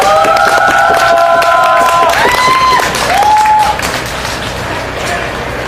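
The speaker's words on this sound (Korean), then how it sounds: "큰 박수로 모시겠습니다." Crowd applause at an evening street rally against the Korea-US FTA, steady clapping and some cheering under an announcer's voice, tapering slightly toward the end.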